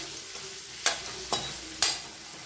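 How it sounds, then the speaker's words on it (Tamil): Eggs frying crispy with turmeric in a pan, a soft steady sizzle punctuated by three distinct spatula scrapes at even intervals. "அதுக்காக நல்லா வறுத்து எடுத்துக்கலாம்"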